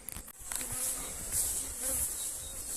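Agitated honeybees swarm close around a very busy hive, a dense, steady buzzing hum that stays loud and near throughout, with no talk.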